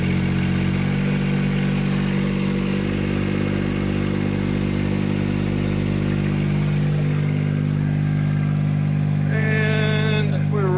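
A John Deere 1025R compact tractor engine running up to about 2000 RPM, a loud steady close drone that holds its pitch, with a brief higher whine near the end.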